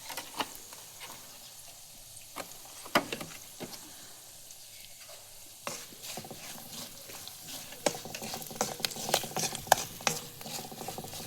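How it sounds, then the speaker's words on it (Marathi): Coconut masala being stirred and mixed in a pan over a wood-fired village stove, with soft scraping and irregular clicks of the spoon against the pan over a faint sizzle, quiet and close. "आणि मस्त हलवून घेते एकजीव करून."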